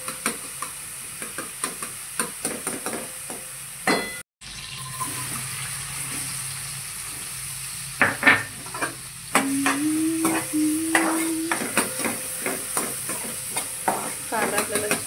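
Onion frying for pav bhaji with capsicum in the pan, a continuous sizzle broken by repeated spatula scrapes and taps, with brief running water partway through.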